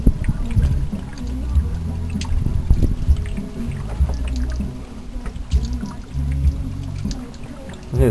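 Engine coolant bubbling in a car's cooling system at the filler opening, a steady low gurgling and burbling close by, continuous and irregular with no talk.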